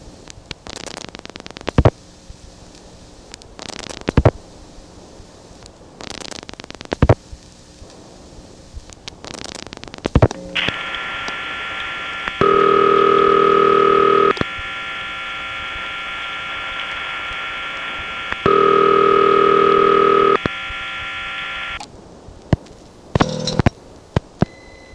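A call dialed through a 1977 step-by-step telephone exchange in Smyrna, Georgia: scattered clicks and thumps of switching give way to a loud steady tone, broken by two louder pulses and then cut off, followed by more clicks.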